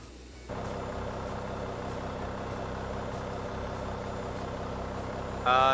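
Boeing 737-800 engines spooling up in the X-Plane 11 flight simulator, a steady loud whine and rumble that rises at once and holds evenly, ending with a brief brighter burst.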